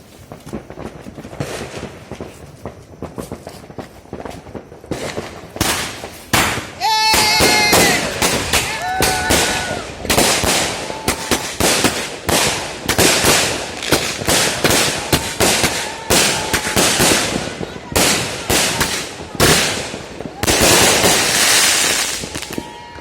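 Rapid strings of firecrackers crack and pop loudly for over twenty seconds at New Year's Eve 2020-2021 in Tomohon, dense bursts overlapping with occasional sharper bangs and faint voices in the background.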